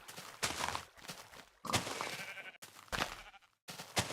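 Minecraft farm animals, sheep among them, bleating loudly in repeated bursts with short gaps between, several close calls one after another.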